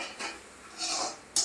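A utensil scrapes and rubs through turmeric and chili powder in a cooking pan for a Bengali papaya and potato dish, a few soft scraping strokes ending with a brief sharp clink.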